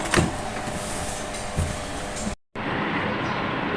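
A sewing machine stitches the side seam of a child's dress with a steady, close mechanical whirring rattle, which cuts out for a moment before running on again.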